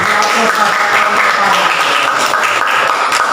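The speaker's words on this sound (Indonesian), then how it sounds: "Terima kasih ya, tepuk tangan." Students in a classroom applaud, a dense, even patter of many hands clapping at close range that stays steady throughout the short stretch.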